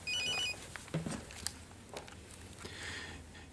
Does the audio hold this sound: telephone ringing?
yes